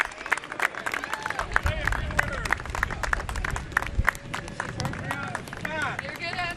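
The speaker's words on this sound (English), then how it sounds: "round of applause for the truck drivers who did a great job." Crowd applauding for truck drivers at an outdoor Congressional Christmas tree welcome at the Capitol, steady dense clapping with scattered whoops and murmuring voices, fairly distant.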